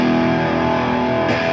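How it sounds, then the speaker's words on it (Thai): A loud, heavily distorted electric guitar with DiMarzio Satchur8 and Air Classic pickups rings out in a sustained, buzzing chord that holds steady and then shifts briefly near the end. "มาลองฟังเสียงแตกแบบขำๆ"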